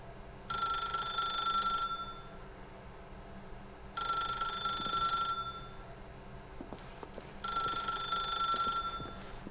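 A telephone rings in The Stanley Parable video game: three long, steady electronic ring bursts with short pauses between them, loud and clear with no talking.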